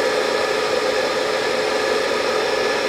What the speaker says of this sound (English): the fan you hear running, that is the GTFX 2524 Outback. Keeping it cool.